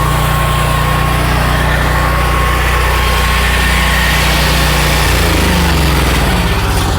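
A small gas engine drives a car lift, running loud and steady at close range with a constant buzzing drone that shifts slightly in pitch near the end.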